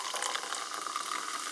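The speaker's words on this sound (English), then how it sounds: "open up this pineapple sparkling water and you fill it" Pineapple sparkling water pours into a mug, a steady bright fizzing, splashing stream, close and fairly quiet, with no talking.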